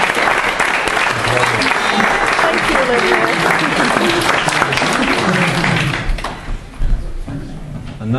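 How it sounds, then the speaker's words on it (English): A wedding reception crowd gives a loud burst of clapping that lasts about six seconds and then fades, with a few words spoken near the end. "I think another round of applause."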